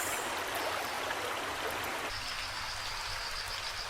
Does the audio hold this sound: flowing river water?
yes